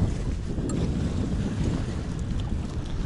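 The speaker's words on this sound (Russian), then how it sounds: "Такие иногда приятные волны приходят с ниоткуда." Caribbean ocean waves rock a sailboat, heard as a steady, close rush of water and wind buffeting the microphone, continuous with no voices.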